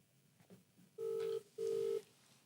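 Two phone dialing tones sound in quick succession, each a steady electronic beep under half a second long, clear and close against a quiet background.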